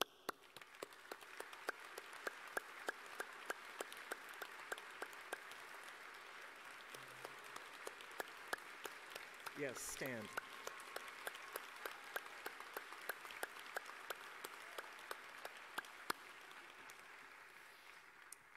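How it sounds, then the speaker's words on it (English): A convocation audience claps steadily, a faint, distant spread of many hands, with a brief spoken remark midway. "I'd like to lead a round of applause for you."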